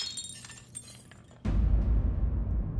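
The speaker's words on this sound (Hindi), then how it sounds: "वो कांच का गिलास पड़ा था पानी का, वो हमारे हाथ से ऐसे गिर गया, वो टूट गया हो" A glass drinking glass hits the floor and shatters with a sudden, loud crash, followed by a noisy, lingering rumble and scatter of debris; no one speaks.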